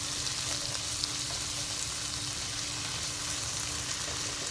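Shrimp paste sizzles steadily in a hot pan while being stirred as part of cooking ampalaya con shrimp and egg, a continuous close frying hiss with faint scraping.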